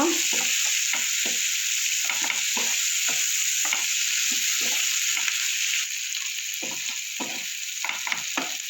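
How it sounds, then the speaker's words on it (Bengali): Loud, constant hiss of onions frying in a pan until browned, with regular short scrapes of a spatula stirring every half second or so. "পেঁয়াজগুলো একটু লাল লাল করে ভেজে নেব"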